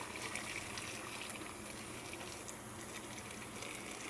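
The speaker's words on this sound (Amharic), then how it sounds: "ባዶ ብረት ድስት ላይ ቢስሚላህ ውሃ ጨምራለሁ" Water runs into an empty iron cooking pot in a continuous faint trickling pour, steady and without pauses, quiet and fairly close.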